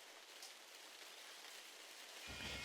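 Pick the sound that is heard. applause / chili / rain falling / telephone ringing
rain falling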